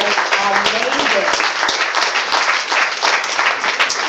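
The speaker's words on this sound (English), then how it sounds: "So round of applause for Brett Billingsley." An audience at an art event applauds steadily, a dense wash of clapping with some cheering, loud and near, while voices talk over it.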